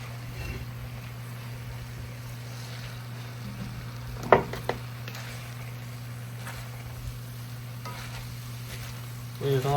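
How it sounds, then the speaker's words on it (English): Beef burgundy stew ingredients stirred together in a pot, a steady low sizzle and hum throughout with a few louder scraping clunks from the spoon near the middle and end. "And stir all this in together."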